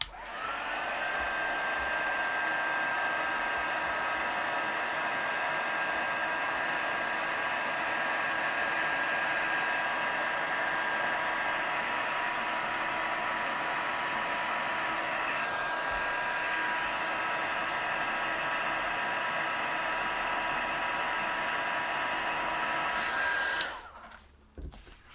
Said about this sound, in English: I'm just gonna heat emboss. So cover your ears